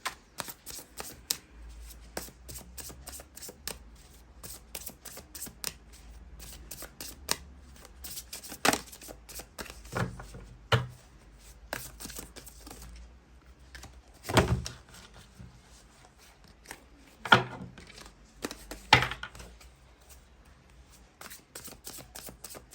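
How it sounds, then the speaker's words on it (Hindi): Tarot cards shuffled and drawn from a deck, giving repeated crisp riffling and sliding bursts with scattered taps and thunks, close and fairly quiet, with no talking over them. "दूसरे डेक से भी हम कुछ कार्ड्स निकालते हैं गाइस।"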